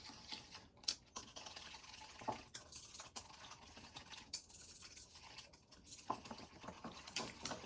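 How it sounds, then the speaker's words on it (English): Small whisk beating cornstarch into a sauce, giving a quiet, quick patter of wire taps against the bowl that comes in uneven bursts, close and faint. "I'm just going to whisk in the cornstarch."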